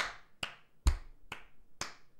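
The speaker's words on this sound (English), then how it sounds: "Is it just me clapping today?" Five sharp hand claps from a single person, spaced roughly half a second apart, close and crisp in a quiet room.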